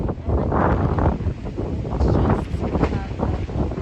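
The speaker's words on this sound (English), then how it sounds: "do you see that wind?" Strong wind roars and buffets a microphone outdoors beside a polytunnel on a field plot, a loud continuous rushing with gusts rising and falling throughout.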